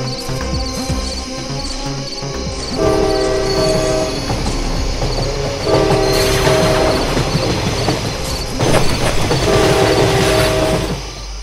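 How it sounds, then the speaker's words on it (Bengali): A cartoon train passes loudly on a railway line, its rumbling wheels and clatter running throughout, with a tonal horn blaring in three separate blasts. "আরে এক্ষুনি এই লাইনে ট্রেন আসবে"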